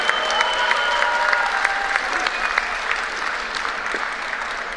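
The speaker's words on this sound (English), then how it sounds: "Make some noise for Prachi!" A crowd applauds steadily through a women's singles semifinal at the 2014 US National table tennis championships, dense clapping that swells in places and continues without pause.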